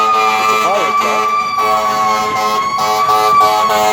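Wailing fire engine siren close by, loud and sustained with warbling pitch sweeps layered over a steady tone, traffic noise beneath and no one talking.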